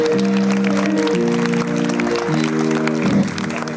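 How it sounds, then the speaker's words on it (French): Audience applause at a live stand-up comedy show at a comedy club, a steady wash of clapping that runs the whole time beneath sustained musical tones and a brief voice near the end. "applaudissements pour elle"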